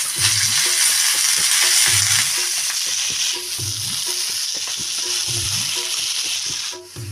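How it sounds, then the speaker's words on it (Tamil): Pirandai (adamant creeper) sautéing in sesame oil, a steady close sizzle with rhythmic scraping stirs repeating about every second, no voices. "இந்த அளவுக்கு பரண்டையை நல்லா வதக்கணும்"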